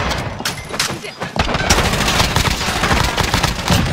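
Rapid automatic gunfire in the video game Warzone: close, loud bursts of dense, overlapping shots that run almost unbroken, with a short lull before a sustained barrage.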